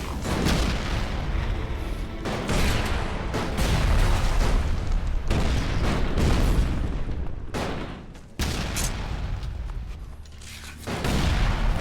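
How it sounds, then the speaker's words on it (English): Grenade explosions in the video game ELEX II, a relentless barrage of loud booming blasts and gunfire rolling on for several seconds with brief gaps between volleys. "They're chucking grenades."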